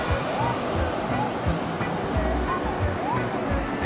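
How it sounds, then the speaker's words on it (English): Surf rolls onto the beach along the coast at Fort Funston in San Francisco, heard as a steady, broad wash of breaking waves with low wind rumble, fairly loud and continuous with no voices. "Some surf."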